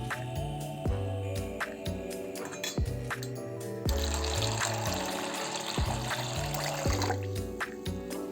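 Urad dal and sabudana are washed in water in a kitchen vessel, with sloshing, pouring and trickling sounds, occasional clinks against the container, and a steady low background hum.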